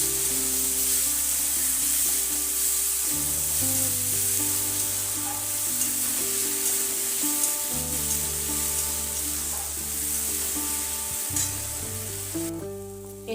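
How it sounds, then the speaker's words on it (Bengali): A paste of ginger, garlic, onion and green chili fries in hot oil, giving a steady, even sizzle throughout with no talk. "এরপর দিয়ে দেব আদা, রসুন, পেঁয়াজ আর কাঁচা লঙ্কার পেস্ট।"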